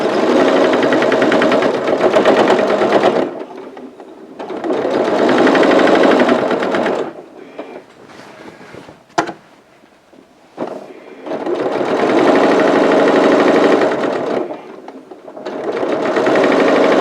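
Sewing machine top stitching a quilt in bursts of fast, loud, steady whirring, three or four runs separated by short pauses with small clicks between them.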